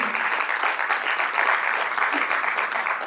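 An audience at an honouring ceremony for Mission Shakti 5.0 claps in a loud, continuous burst of many hands, dense and even throughout without a break.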